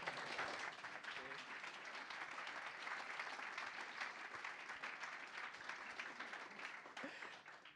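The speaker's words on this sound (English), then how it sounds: "Please clap for Suki." An audience at a London diversity event claps for a speaker, a steady, dense round of applause that holds evenly for several seconds at a soft, distant level.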